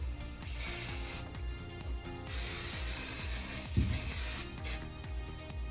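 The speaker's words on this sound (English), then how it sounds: "we're going to turn it into a sticker with our adhesive spray. I'm going to spray it off camera." A steady hissing adhesive aerosol spray in two long bursts with a brief break, close by, over a low rumbling background.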